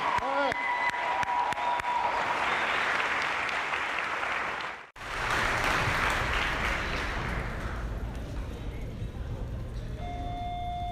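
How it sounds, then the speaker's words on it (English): Middle school graduation audience breaks into long, loud applause that fades, then swells into a second dense round before tapering off. "Let's give a round of applause, please."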